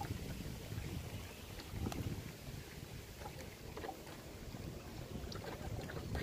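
A small Puddle Pirate mini boat motors across open water on a very windy day, its buzzing drone steady and fairly faint beneath gusting wind noise on the microphone.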